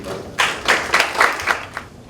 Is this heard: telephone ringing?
no